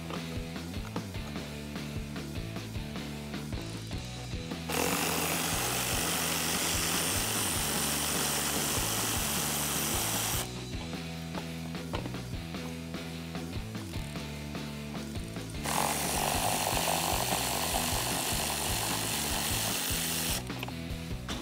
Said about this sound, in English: I'm going to use that same 16mm socket, and we can remove those.